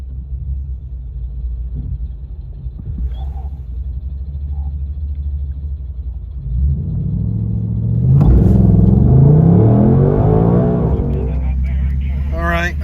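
A 2024 Ford Mustang Dark Horse rumbles at idle at a drag strip, then the engine revs and holds a loud, rising roar close by.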